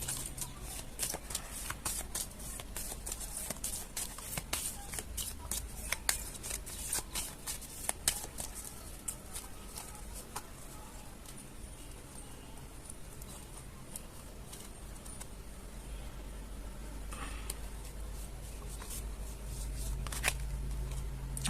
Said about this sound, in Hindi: मैं तब तक शफल कर रही हूँ